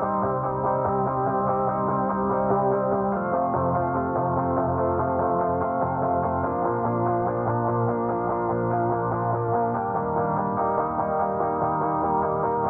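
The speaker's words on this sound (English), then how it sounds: "We have the guitar." Sustained, layered chords come from the Ample Guitar TC virtual guitar in a production recreating a song. The notes ring steadily and evenly throughout, with no voices.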